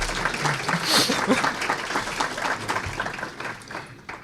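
Audience applause during a hacker conference talk, a dense clatter of clapping with some chuckling and voices mixed in, rising then tapering off.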